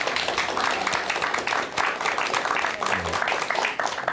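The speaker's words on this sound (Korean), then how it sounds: "우리 저분께 박수 한번 주세요." An audience applauds at a talk-style lecture event in a hall, a dense, steady wash of many hands clapping that stays loud and even, with a few individual claps standing out near the end.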